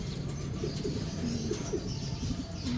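Racing pigeons resting after their first training toss coo softly in short, low murmurs, several birds overlapping at a moderate distance over a steady background hum.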